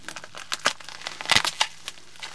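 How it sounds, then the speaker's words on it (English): Plastic shrink wrap crinkling and tearing off a boxed Commodore VIC-20 game cartridge, Omega Race, in scattered close crackly bursts that peak briefly near the middle. "This one I can unwrap."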